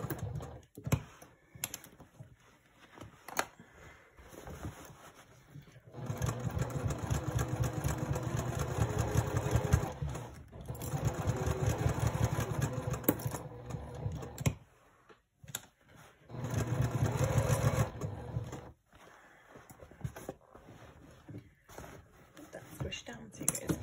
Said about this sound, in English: sewing as close to your clips as you can get, so less likely of your interior fabric slipping